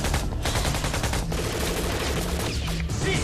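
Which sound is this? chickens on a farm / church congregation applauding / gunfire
gunfire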